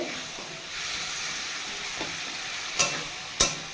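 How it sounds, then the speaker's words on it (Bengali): Paneer, carrot and potato curry sautéing in a pan, a quiet continuous sizzle with a couple of sharp spoon scrapes against the pan near the end. "এভাবে কষাতে থাকবে"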